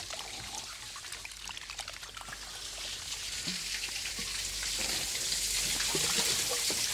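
Water drains out of a pond, pouring and trickling steadily in a continuous splashing flow that grows slightly louder toward the end, with no voices.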